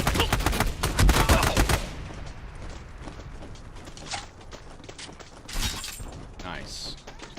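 Rapid burst of video game gunfire in the opening seconds, loud and close, followed by a few scattered single shots and mechanical clicks.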